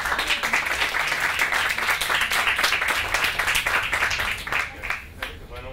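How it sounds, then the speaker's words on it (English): A crowd at a speech event claps for the supporters of an early education cause, busy and fairly loud at first before thinning out and fading near the end. "how about another round of applause for all our supporters?"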